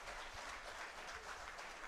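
Brief burst of continuous clapping from an audience at a bank employees' union meeting, steady and fairly loud for its whole short length.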